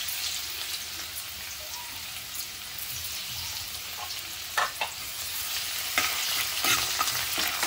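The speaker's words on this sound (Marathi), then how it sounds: "लसूणची फोडणी करूया आपण" Garlic sizzles in hot oil in a kadhai, a steady close crackling hiss like rain, broken by a few sharp pops and stirring clinks near the end.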